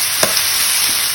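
Chicken legs sauté in a hot pan, a loud, steady close sizzle with a brief stir or clink near the start.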